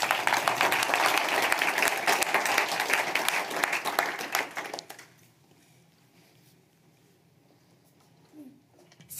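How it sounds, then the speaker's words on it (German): Audience applause at an Upper Austrian business dialogue event, a full burst of many hands clapping for about five seconds before cutting off abruptly into near silence with faint room noise. "Aber Applaus"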